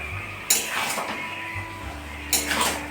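A mixed winter vegetable curry is stirred in a pot, with two bursts of metal spoon scraping and clinking against the pot, close and clear over a low background hum.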